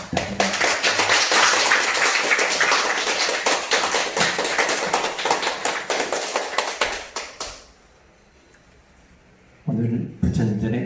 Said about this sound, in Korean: 감사와 찬탄의 박수 부탁드립니다